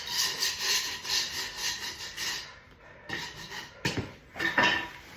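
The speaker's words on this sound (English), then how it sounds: "And sweep everything up very thoroughly." Broom sweeping debris and leftover glue bits off a vinyl plank floor during a repair, close, dry scratchy strokes in rhythmic bursts, pausing briefly and then a few quicker sweeps.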